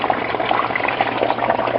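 Water pushed up through a half-inch irrigation pipe in an aquaponics plumbing setup gurgles and bubbles steadily, a close, continuous liquid churn under a low hum.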